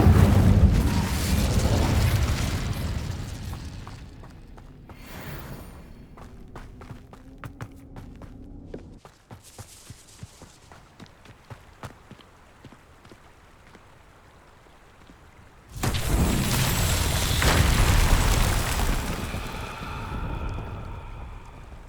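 A fire spell cast in the Hogwarts Legacy video game: a loud rushing whoosh and crackle at the start, a quieter stretch of scattered pops and thuds, then a second broad roaring burst near the end.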